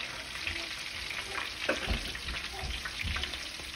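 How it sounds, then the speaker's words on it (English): Mozzarella en carozza (Spiedini alla Romana) frying in a pan with butter gives a steady, close sizzle that swells and crackles in small bursts throughout, with no talking. "while these are frying"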